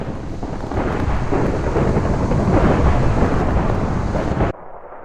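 Thunder rumbles during a storm, a long loud roll that swells and holds for several seconds with windy, rain-like noise, then cuts off abruptly into quieter background.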